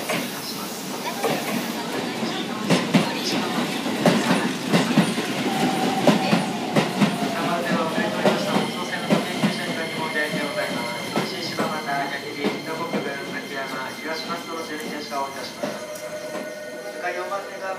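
A train runs through the Keisei Takasago station platform without stopping, with steady wheel clatter and rail rumble that swell and hold close by, ending in a high squealing screech, while a platform announcement voice speaks over it.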